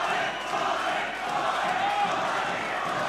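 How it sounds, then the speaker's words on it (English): A crowd at a mixed martial arts fight event roars and cheers, a loud, continuous wall of voices and shouting that stays steady throughout. "And listen to that crowd."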